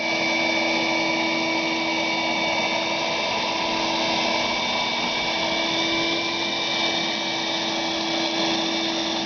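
A 5 horsepower outdoor vacuum cleaning debris off a driveway on a nice day, a loud, constant whining roar with steady motor tones, close and uninterrupted throughout.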